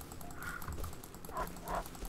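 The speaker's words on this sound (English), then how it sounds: "Wait, I hear barking. That's the bear. I hear growling now." A bear in the Rust survival video game gives a few short, sharp barking calls with a rough growl. Two louder bursts come near the end over steady background game noise, and no voices are heard.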